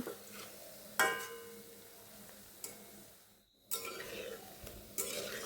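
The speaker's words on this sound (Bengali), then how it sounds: "ফ্লেমটাকে একদম লো টু মিডিয়ামে রেখে এবার এগুলোকে ভেজে নিচ্ছি" Flour-dough snacks frying in oil over low to medium flame, a steady soft sizzle with a few sharp utensil clicks and a brief quiet gap midway.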